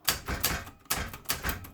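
A typewriter clatters with keystrokes and a tab bar carriage jump to the next column, giving a few loud, close percussive clacks and sliding whirs in an uneven rhythm, heard alone.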